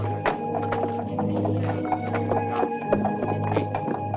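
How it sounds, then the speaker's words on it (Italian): Horses gallop and neigh in a 1959 Italian period adventure film scene, with steady dense clip-clop hoofbeats and whinnies over a constant low hum. "Attenti ai cavalli, voi!"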